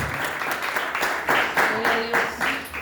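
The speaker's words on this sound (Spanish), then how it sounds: "Dale un fuerte aplauso al Señor" A church congregation claps together in a steady, dense patter that rises slightly in strength, with voices and a few sung or called tones mixed in beneath.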